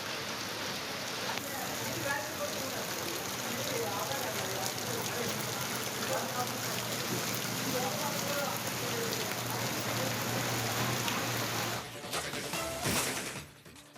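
Steady, dense rain falling in the Malnad region of Chikkamagaluru during a spell of heavy wind and rain, a continuous close hiss that fills the whole stretch and breaks up briefly near the end.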